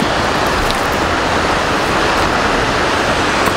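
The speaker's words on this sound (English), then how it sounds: "You can probably hear the water shooting through the dam now." Loud, continuous roar of water shooting through a dam, a steady broadband wash with no pauses, heard up close.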